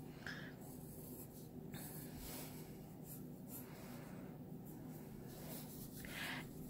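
A pencil sketches perspective lines on paper, with several soft, scratchy strokes of varying length over a low steady background hum, close and faint, with no talking.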